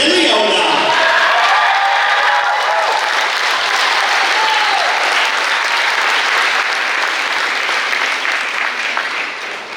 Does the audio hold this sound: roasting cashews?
no